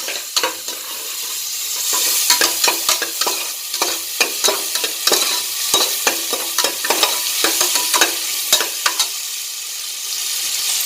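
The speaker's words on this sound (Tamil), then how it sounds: "இதில் சேர்த்துட்டு நல்லா கொஞ்சம் வதக்கணும்" Chopped onions and shallots sauté in a pan for pepper mutton soup, a steady sizzle broken by repeated scraping stirs of the spoon, close and fairly loud with no talking.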